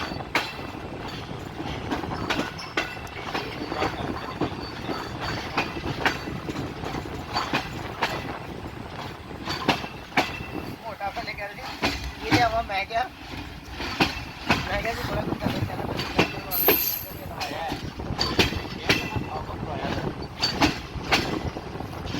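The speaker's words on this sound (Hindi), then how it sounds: "15 अब खानेवाल रेलवे स्टेशन पर अप्रोच कर रही है" Karachi Express passenger train, hauled by a locomotive, approaching Khanewal Junction railway station in Pakistan; steady loud rumble and clatter of wheels and carriages throughout, with some voices faintly mixed in.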